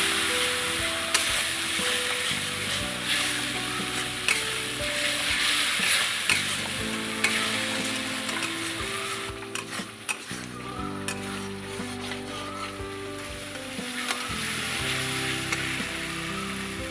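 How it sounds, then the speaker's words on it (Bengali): Jackfruit muitha sautéing in a pan with cumin, coriander and turmeric powder: a steady, close sizzle with repeated scraping stir strokes running throughout, no voices. "এখানে জিরের গুঁড়ো ধনের গুঁড়ো আর সামান্য হলুদ দিয়ে আর একবার কষিয়ে নেব"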